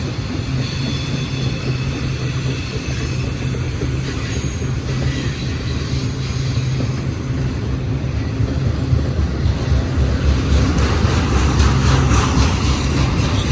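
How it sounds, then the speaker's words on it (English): A long freight train of rail cars carrying 20-foot containers rolls steadily past close by, a continuous loud rumble of wheels and rattling wagons with faint squeals, sustained at even level throughout with no talking. "Still got some train coming."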